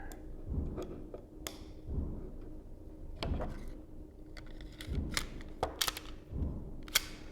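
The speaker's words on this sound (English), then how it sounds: "just putting the gun back together. I'm just gonna throw my recoil spring back in here." A pistol being reassembled with its recoil spring set back in place, heard as a series of quiet close metallic clicks, taps and handling rattles over soft background noise.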